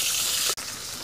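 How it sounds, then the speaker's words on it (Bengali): Shrimp frying in hot oil in a home kitchen, giving a steady bright sizzle that cuts out for an instant about halfway through, then continues. "চিংড়ি মাছটাকে ভালো করে ভাজলো"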